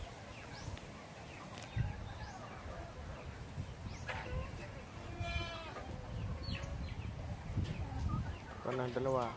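Goats bleating on a farm amid continuous outdoor background noise, with several wavering calls rising over the din and birds faintly chirping nearby.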